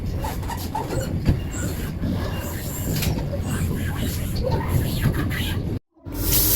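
A Vande Bharat Express train runs with a steady rumble and rhythmic clatter of wheels, heard from inside a carriage with faint voices, and a brief drop near the end.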